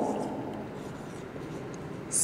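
A pen writes steadily on paper during a class-3 maths lesson on measurement, a soft continuous scratching rub lasting a couple of seconds, close and fairly quiet with no talk over it.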